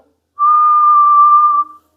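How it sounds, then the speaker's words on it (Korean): A single steady whistle from a person's lips, held as one clear sustained tone for a little over a second, close and loud with no talking. "근데 휘파람은"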